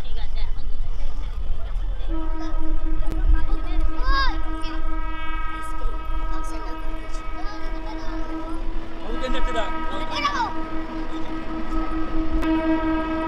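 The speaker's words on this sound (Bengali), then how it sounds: "দুই দিক থেকে ট্রেন আসছে, এদিক থেকেও একটা ট্রেন আসছে আর এদিক থেকেও একটা ট্রেন আসছে" Two Kharagpur–Howrah local trains pass from opposite directions, rumbling loudly with a long sustained horn blast in the middle, while people talk nearby.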